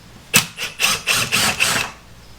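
A power drill backing screws out of an old RV handrail, five short whirring bursts in quick succession, close and loud, with no speech.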